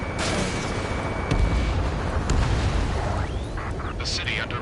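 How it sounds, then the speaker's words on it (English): Rumbling bursts of gunfire, heavy explosion booms and jet roars from an Ace Combat 7 city battle, with a whooshing sweep near the end, under a constant noisy backdrop. "Gunfire and the roar of jets echoing through the streets"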